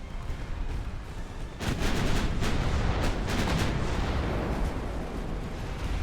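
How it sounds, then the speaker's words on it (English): Torpedo hits and naval gunfire in the warship game Ultimate Admiral: Dreadnoughts, a loud continuous rumble of blasts that swells sharply partway through and stays dense and booming, with no talking. "Alright, who got hit by a torpedo now?"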